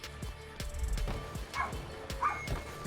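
A dog barks repeatedly at home, several sharp nearby barks in an uneven series, some breaking into higher yips.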